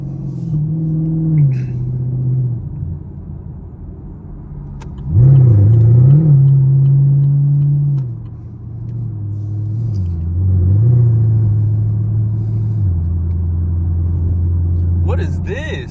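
A Chevrolet Camaro SS engine on a night drive rumbles and revs, rising in pitch through gears with a sharp surge, settling into steady cruising drone; someone talks over it intermittently.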